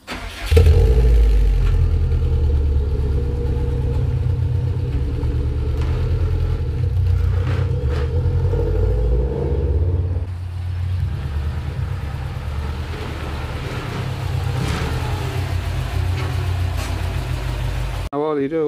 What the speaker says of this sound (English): Just quickly spin the car around and give myself easier access.